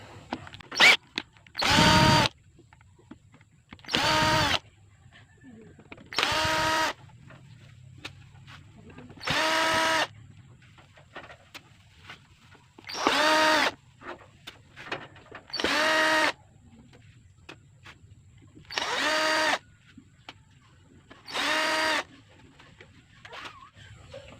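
A power drill backs screws out of a Bluetooth speaker cabinet, with about nine loud, separate whirring bursts of roughly a second each, spaced a few seconds apart over a quiet room background.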